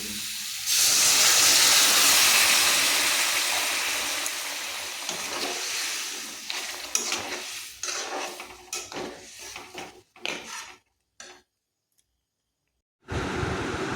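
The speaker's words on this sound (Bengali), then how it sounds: "এবার জল দিয়ে দেব।" Water poured into a hot pan for a tomato-based fish curry sets off a loud, rushing hiss that slowly fades. Scattered clinks of utensils and pan follow, then a brief silence before the hiss returns.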